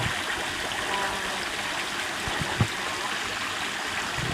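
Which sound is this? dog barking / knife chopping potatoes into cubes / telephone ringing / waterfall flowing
waterfall flowing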